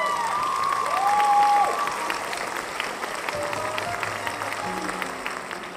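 A concert crowd at a live show applauds and cheers loudly, with whoops and whistles rising over the clapping before it settles into steady applause as faint instrumental notes sound.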